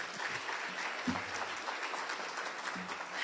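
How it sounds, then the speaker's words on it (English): A luncheon crowd at Tougaloo College gives a sustained round of applause, many hands clapping steadily together at a moderate distance with no talking on top. "Let's give him another round of applause."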